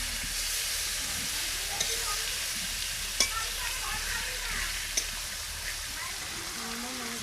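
Fish pieces fry in hot oil in a wok after being turned, a continuous bright sizzle with occasional sharp pops and spatters, close and steady throughout.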